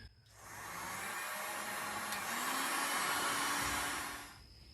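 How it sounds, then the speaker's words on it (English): A heat gun blowing hot air onto a heat pipe, a steady, close airflow roar that rises in, holds for about four seconds and then cuts off. "we'll see if we can get it with this heat gun."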